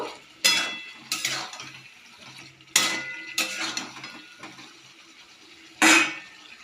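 Potatoes being stirred into masala in a pan for vegetarian kosha aloo dum, with a handful of separate loud scraping, clattering strokes of the spoon against the pot between quieter stretches. No one speaks.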